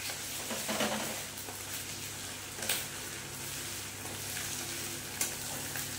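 Ginger and garlic paste sizzles steadily in a hot pan as it is sautéed for chana pulao, a continuous close frying hiss broken by a few sharp stirring scrapes.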